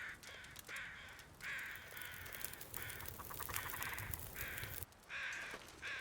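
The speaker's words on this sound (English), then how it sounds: "I hear birds. They sound like they're right next to me over here." Crows cawing in the survival game The Long Dark, repeated harsh calls in uneven bursts that sound close by, over a soft ambient backdrop.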